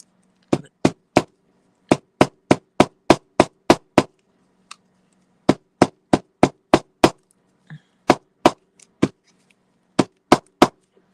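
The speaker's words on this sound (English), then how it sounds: "I have the hammer I like using on seams" A hammer pounds the seam of a black seven-panel hat in loud, sharp taps, struck in quick rhythmic runs of several blows with brief pauses between runs, close up and with no talk.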